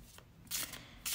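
A deck of oracle cards is shuffled by hand in two quick bursts of crisp riffling, close and fairly quiet, with a short pause between them.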